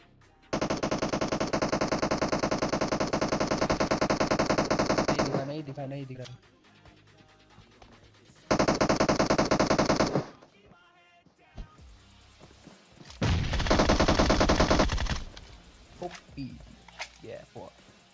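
Gunfire in the video game PUBG Mobile comes as three sustained bursts of rapid automatic shots, loud and close, separated by quieter gaps with scattered faint noises.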